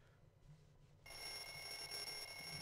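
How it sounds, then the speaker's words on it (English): An alarm clock goes off in the video game Bully, a sudden, continuous, bright ringing that starts after a quiet second and holds steady and fairly loud to the end. "I've got our alarm clock."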